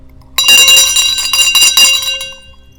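A bright bell rings loudly in a rapid series of clanging strikes, its metallic tones ringing on and fading out at the end.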